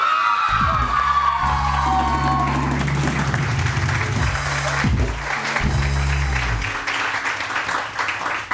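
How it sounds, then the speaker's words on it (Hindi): A studio audience on a Samaa morning television show greets the first morning of 2016 with loud, sustained applause mixed with cheers and whoops, filling the whole stretch without pause. "बहुत सारी तालियां।"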